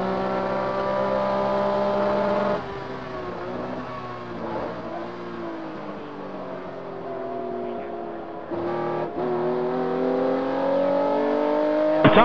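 Vintage Porsche race cars roar around a track, engines droning and revving loudly, with a sharp pitch change as one car passes close and fresh throttle rising afterward; no voices.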